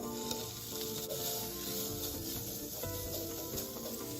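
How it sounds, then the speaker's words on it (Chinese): Pork slices sizzle in a thin film of oil in a nonstick pan over low heat, a continuous, fairly quiet hiss and crackle with no talking. "加入預先備好豬肉煸香。"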